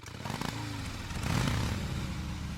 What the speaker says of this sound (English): Start with the motorcycle, of course.